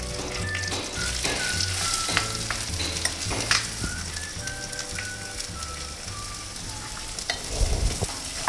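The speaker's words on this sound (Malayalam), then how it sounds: "എണ്ണ മാറ്റി ഇനിയിപ്പം ചെറിയ ഉള്ളി ഇതിനകത്തോട്ടിടാം." Small onions fry in hot oil in a pan, giving a steady close sizzle broken by repeated scraping stirs, with a faint tonal hum in the background.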